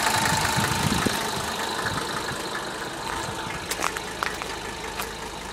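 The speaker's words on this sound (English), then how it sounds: "You can hear it running, it runs pretty good." A 1982 Mercedes 300DT diesel engine idles cold after sitting for weeks, a loud, steady clattering rumble with rhythmic knocking ticks close by, alone without speech.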